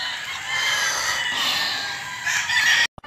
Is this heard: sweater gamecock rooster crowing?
yes